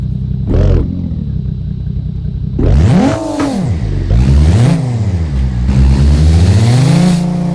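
A Nissan car in the BeamNG.drive video game revs its engine in loud, repeated surges. The pitch climbs and falls several times after a short opening blip, over a steady idle hum.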